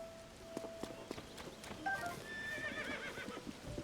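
Horse in the Tears of the Kingdom video game whinnying loudly over a steady series of clip-clopping hoof steps, fairly faint overall, with no speech.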